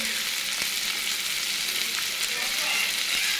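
Onions and chopped tomatoes fry in a pan with a constant soft sizzle and a few faint clicks of a utensil. The sound stays moderately quiet and steady throughout.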